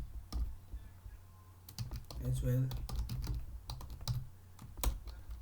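Rapid clatter of computer keyboard keys, near and fairly loud, with a brief spoken phrase partway through.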